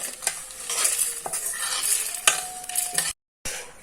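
Pepper, coriander seeds and cumin are stirred and dry-roasted in a pan for a Mangalorean mackerel pulimunchi, a close, busy scraping and rattling with a light sizzle, briefly cut to silence near the end.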